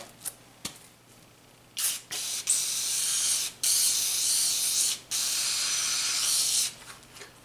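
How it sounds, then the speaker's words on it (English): Penetrating lubricant is sprayed from an aerosol can onto a stuck spring on a 1985 Yamaha YTM 200 three-wheeler, first in a few short hissing spurts, then in three long, loud, steady blasts. "So I'm going to spray that down in the spring and see if I can loosen it up."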